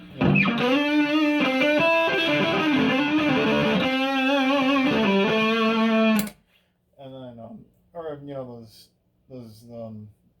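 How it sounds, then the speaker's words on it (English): A distorted electric guitar phrase through a mini delay pedal, a doubled, chorus-like 1980s-style delay thickening each note, then it stops and someone talks briefly in the gaps. "you can get that 1980s doubling effect"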